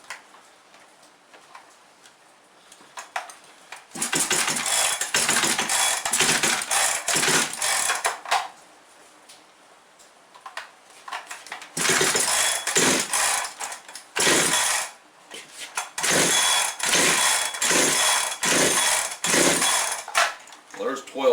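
The starter cord of a Farmertec/Huztl 365 chainsaw clone is yanked over and over, each rasping rip of the recoil coming in quick rhythmic runs separated by short pauses, close and loud with no engine catching.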